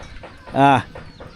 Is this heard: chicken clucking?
yes